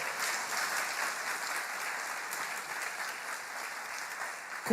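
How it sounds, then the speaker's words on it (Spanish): A church congregation applauds together during a Spanish-language sermon, a dense, steady wash of clapping from many hands in a large room that continues evenly throughout. "Dale palmas al Señor."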